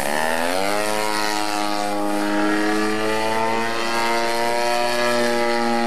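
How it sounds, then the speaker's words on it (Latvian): Propeller aircraft performing an Immelmann turn at an air show in Kuldiga, its engine a loud, steady drone whose pitch climbs early and then holds with a slight waver. "Kā nākošā figūra, jums tiks demonstrēts kaujas pagrieziens Imelmans."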